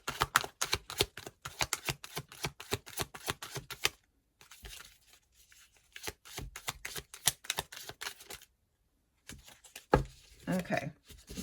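Soul's Journey Lessons oracle cards are shuffled by hand, making rapid riffling clicks and flicks in close bursts with brief pauses between handfuls, fairly crisp and near.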